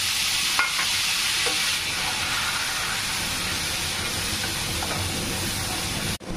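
Whole garam masala (cardamom, cloves, cinnamon) with bay leaves and tomato paste sizzling steadily in a pan, a continuous close frying hiss with faint stirring scrapes and no voices.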